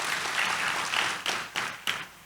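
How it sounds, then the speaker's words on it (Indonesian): Church congregation breaking into lively applause during a Sunday sermon, a steady wash of many hands clapping that swells and fades in waves before tapering off. "Tepuk tangan yang meriah buat Tuhan Yesus."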